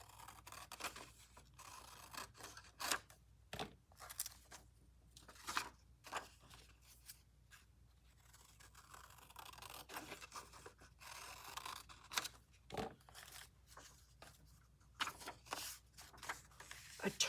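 Scissors snip and cut through paper with irregular crisp clicks and crunching scrapes, close and quiet, interspersed with paper rustling and handling noises.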